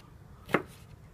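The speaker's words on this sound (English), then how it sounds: "Boy, this knife is just getting duller by the minute." A single sharp knife chop, close and clear, cutting onions with a knife that is going dull, set against quiet kitchen room tone.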